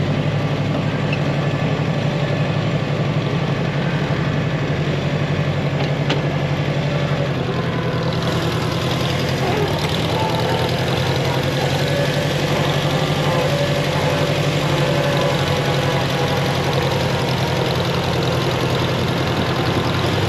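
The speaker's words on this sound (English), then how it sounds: "There's all the pulling tractors down here." Pulling tractors idling at a vintage farming show and tractor show, a steady, dense mechanical rumble with a faint knocking texture that holds evenly throughout.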